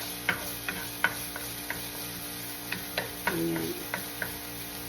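Garlic browning in a pan for salt and pepper shrimp, a quiet steady sizzle broken by soft irregular ticks and stirring taps, with a brief word spoken over it.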